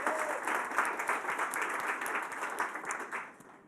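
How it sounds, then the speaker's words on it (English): Sustained applause from a conference audience in London, steady and dense clapping that fades slightly toward the end. "it does deserve a round of applause."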